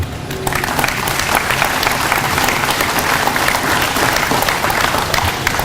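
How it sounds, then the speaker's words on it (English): A standing audience at a Degelman ribbon cutting and open house gives a job service leader and his team a loud, sustained round of applause, with dense clapping that swells after a brief start and stays steady. "why don't you all stand up and give them a round of applause"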